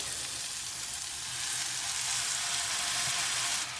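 Soy sauce hits sticky mushrooms in a hot pan, giving a loud, continuous hissing sizzle that swells slightly as the liquid spreads, close up with no talking.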